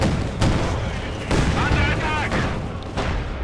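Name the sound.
heavy mortar round exploding in Company of Heroes 2 video game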